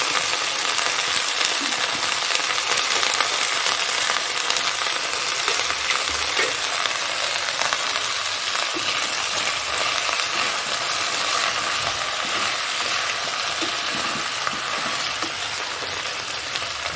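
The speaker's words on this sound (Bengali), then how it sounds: "আমি এর মধ্যে ডাঁটা আর একটু আলু কাটা তেল দিয়ে দিচ্ছি।" Vegetable stalks and cut potato frying in hot oil, a dense, steady sizzle and crackle that holds loud and even throughout, with no talking.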